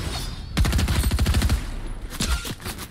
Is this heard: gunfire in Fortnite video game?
yes